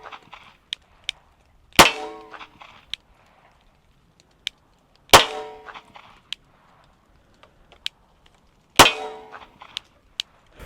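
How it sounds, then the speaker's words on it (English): Three sharp, loud gunshots from a Ruger LCP .380 compact pistol fired at a range, spaced a few seconds apart with ringing decay, plus faint clicks and handling noises between shots. "So we'll shoot a couple more rounds through it."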